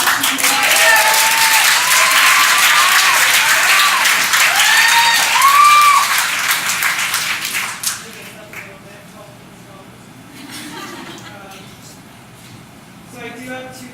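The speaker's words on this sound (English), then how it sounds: "so give her a big round of applause" A crowd at a foster care arts event gives a round of applause, loud and dense at first, mixed with cheering voices, then thinning out to scattered claps and quiet room noise.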